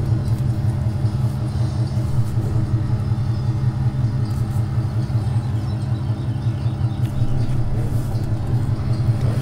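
A farm vehicle in Landwirtschafts Simulator 2017 drives along with a steady, loud low engine drone and rumble, continuous for the whole stretch with no speech over it.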